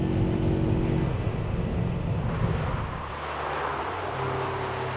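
Volkswagen Up GTI being driven, a steady close engine drone with road and wind roar that shifts pitch partway through as the car changes speed, no voices.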